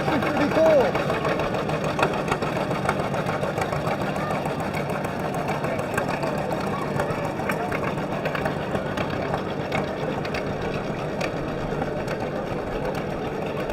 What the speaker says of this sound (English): I love that putter that these tractors make.